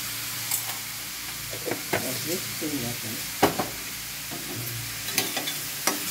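Raw papaya simmering in sugar syrup sizzles softly under repeated scraping strokes of a spoon stirring the pan, close and moderately loud, with brief murmurs of speech in between.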